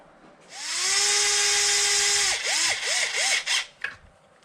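A power drill drives screws into a Traxxas X-Maxx RC truck bumper, one long steady whine that ramps up and holds, then several short stuttering bursts as the screw seats, close and clear.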